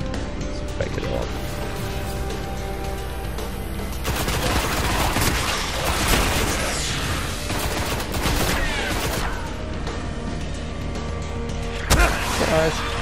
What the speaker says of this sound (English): Recoil on the shotgun.